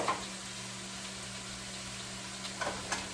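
A steady, dense hiss of vegetables frying in a pan on a stove, with a few faint clinks near the start and end, and no voices.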